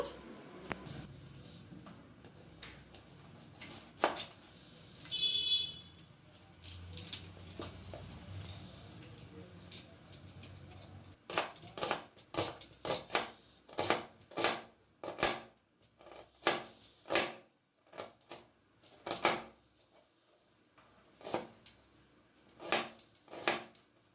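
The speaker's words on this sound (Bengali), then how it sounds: "এরপর পেঁয়াজটাকে আমি কুচি কুচি করে কেটে নেব।" A knife chops a peeled medium-sized onion finely on a board, sharp repeated taps that start sparse and become a quick, regular run of close, crisp strikes, with a short burst of other noise early on.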